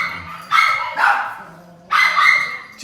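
Several small dogs bark in sharp, close bursts indoors in a mudroom, with two loud yapping volleys separated by a short lull.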